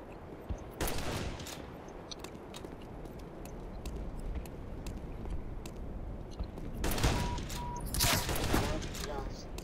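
Gunfire in the Black Mesa video game, a steady stream of shots crackling throughout with heavier bursts near the end, set against game ambience.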